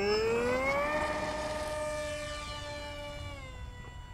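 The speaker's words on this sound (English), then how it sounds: "I'm just going to go full throttle and full up elevator and just keep it tracking straight, and we'll see where it takes off on its own." A HobbyZone AeroScout S2 RC airplane's electric motor whines at full throttle on takeoff, a loud, steady high-pitched tone that sags slightly in pitch and fades a little as the plane pulls away.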